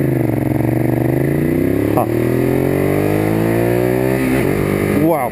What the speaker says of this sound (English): I gotta blip the throttle way more to get it to pop up the revs enough to downshift.